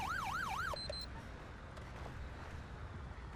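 Wailing ambulance siren in GTA 5 (LSPDFR), a rapid rising and falling tone that cuts off after under a second, then a few short electronic blips over quiet background.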